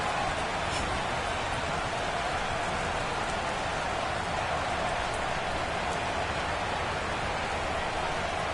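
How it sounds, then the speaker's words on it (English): Steady rain falls on a wet afternoon at a football game in Madden 22, Chiefs versus Buccaneers in Tampa, heard as a constant loud hiss that stays unchanged throughout. "Set to go now on a wet and rainy afternoon."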